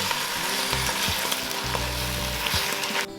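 Scallion whites and tomatoes are stir-fried for a crab paste tomato noodle soup, giving a loud, constant close sizzle with brief scraping stirs, and the sound drops off abruptly at the end; no talking.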